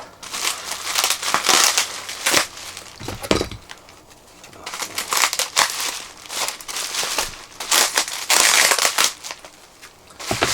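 Crinkling and crushing of wrapping being pulled open by gloved hands on a small package, in bursts of crackling broken by brief pauses, close and fairly loud with no talk.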